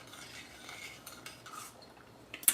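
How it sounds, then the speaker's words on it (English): Metal utensil scraping and clinking against a pan while vegetable stir fry cooks, soft intermittent stirring strokes under a faint sizzle, ending with a sharper clank. "So right now I'm letting it cook up and I'm stirring it gradually"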